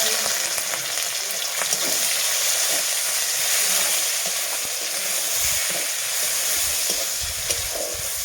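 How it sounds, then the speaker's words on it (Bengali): Chopped onions frying with whole garam masala in oil in a pan, a steady close sizzle with occasional stirring scrapes throughout, no talking. "এখন আমি দিয়ে দেবো পেঁয়াজ কুচি"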